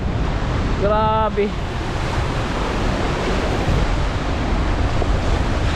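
Big waves crashing on a rough, stormy sea along the Davao coast, a loud steady roar of surf and wind through the whole stretch, with a man's brief exclamation near the start.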